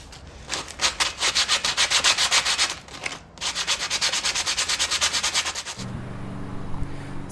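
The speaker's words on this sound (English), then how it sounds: "we're going to take some 60 grit sandpaper and we're just going to sand down all that old glue" 60 grit sandpaper scrubbing old glue off a Jenco vibraphone, heard as rapid rhythmic back-and-forth rasping strokes, close and loud, in two long runs separated by a brief pause, with a low hum coming in near the end.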